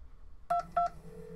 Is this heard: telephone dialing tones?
yes